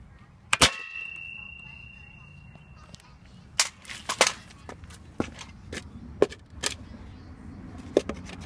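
Airsoft gun shots striking a styrofoam cup: a sharp snapping crack with a brief ringing tone, followed by several quieter clicks and taps spread irregularly over a quiet background.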